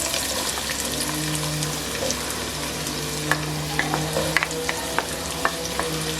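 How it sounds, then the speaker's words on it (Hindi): Onions frying in cooking oil in a kadai, a continuous close sizzle broken by scattered sharp crackles and pops, with faint scraping as the pan is worked and no one speaking. "तो हमने कुकिंग ऑयल जो है वो डाल दिया कढ़ाई में। अब हम इसमें डालेंगे प्याज।"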